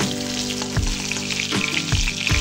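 Pointed gourd (potol) pieces frying in oil, a steady close sizzle and crackle with a few clanks of a spatula against the pan.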